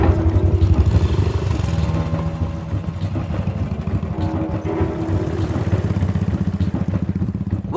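A motorcycle engine runs steadily and loudly with a rough, clattering throb as the bike rides off, its tone holding close with no talk over it.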